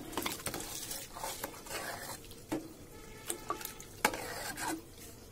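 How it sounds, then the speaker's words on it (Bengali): Soaked rice pours into a pot already holding cinnamon, clove and cardamom for biryani, giving a steady grainy patter and stirring rustle with a few sharper clinks, fairly close and moderate in level, with no talk. "এবার ওই যে ভিজিয়ে রেখেছিলাম চালটা, এই যে ভিজিয়ে রেখেছে চাল,"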